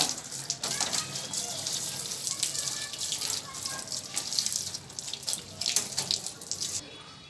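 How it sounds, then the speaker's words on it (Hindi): Tap water runs steadily while a split AC indoor unit's plastic cover is washed under it, a continuous close splashing hiss with uneven surges, alone and without talk. "आप देख रहे हैं कि मैं इंडोर कवर धो रहा हूँ"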